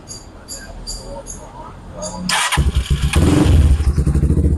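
A Motorstar Explorer 200 motorcycle with weak pulling power, in neutral, cranks and catches, then idles with a loud, rapid, throbbing putter right up close.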